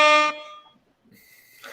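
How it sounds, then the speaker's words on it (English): A single loud, blaring air horn blast with rich harmonic tones, cutting off abruptly and leaving a faint tail, followed by another horn-like tone fading in. "we had to give you some air horns tonight"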